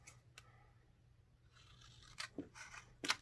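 Scissors snipping through paper cards, a few faint, sharp clicks and crisp cuts near the end after quiet rustling, close and soft.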